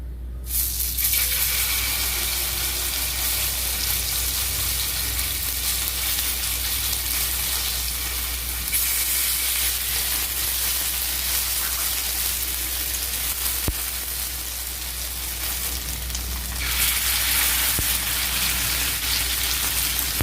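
Uthappam batter made with leftover rice fries on a large tawa, a continuous loud hiss-like sizzle resembling rain, holding steady throughout with a slight swell toward the end.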